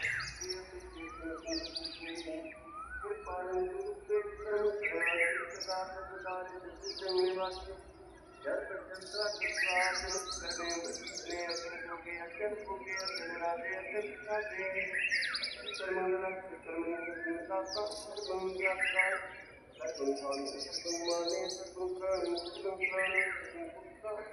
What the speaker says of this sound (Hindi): तो इस टाइम पर पक्षी चहचहाते हैं बाहर